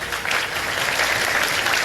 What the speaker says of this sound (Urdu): بہت ساری تالیاں ان کے لیے.